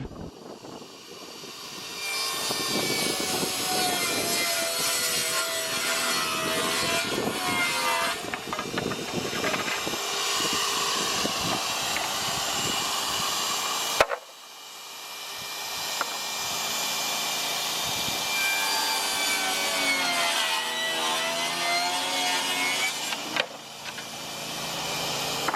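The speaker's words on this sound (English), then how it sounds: "60 volt table saw" A cordless 60-volt table saw cuts through wood in a loud, sustained whine with a brief break partway through and a short dip near the end, running on without any talk.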